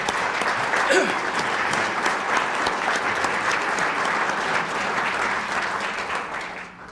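Loud, sustained applause from a roomful of people at a mayor's State of the City address, a dense wash of clapping that holds steady and then begins to fade at the end.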